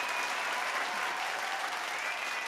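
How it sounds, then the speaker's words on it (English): Canned applause from a recorded sound effect, routed through a mixer at a song contest awards event, steady and dense with no break for its full length. "Oh, I love the applause."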